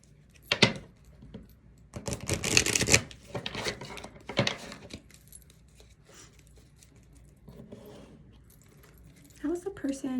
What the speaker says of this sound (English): let me get some clarifying cards here with my love message deck